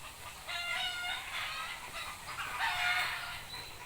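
Chickens clucking and a rooster crowing around a rural Philippine shortcut through bamboo forest lined with chicken coops, a steady overlapping chorus of calls at moderate distance throughout.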